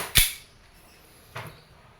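A WE 2011 Hi-Capa T-REX silver-slide airsoft pistol fires twice over a chronograph, giving two sharp, close cracks about a second apart, the first louder, with no talk.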